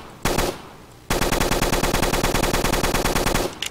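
Automatic gunfire in the Roblox game Black Ops 3 Tycoon: a short opening burst, a pause, then a long rapid stream of evenly spaced loud shots that stops abruptly, with no talking.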